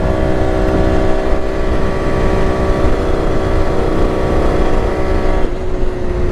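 A Kawasaki KH500 H1 two-stroke motorcycle runs on the road, a loud, steady engine drone with rushing wind that holds for several seconds and shifts slightly in pitch near the end.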